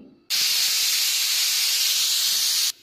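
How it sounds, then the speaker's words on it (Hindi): A pressure cooker lets out one loud, steady hiss of steam lasting a few seconds, starting and stopping abruptly. "हमारे कुकर में एक सीटी आ गई है।"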